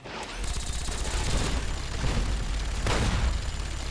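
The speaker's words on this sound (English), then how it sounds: "The rocket barrage from these guys is... It looks awesome" Legion rocket barrage at Hoover Dam in Fallout: New Vegas, a steady rumbling wash of explosions and distant gunfire with a sharp burst near the end, continuous and fairly loud.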